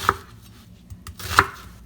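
A knife chops garlic cloves into large chunks on a cutting board, giving two distinct sharp knocks about a second apart over quiet kitchen background.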